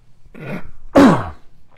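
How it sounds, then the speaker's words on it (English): A short, hoarse cough, a single harsh burst preceded by a softer breathy sound, close and fairly loud. "Sorry, coughing."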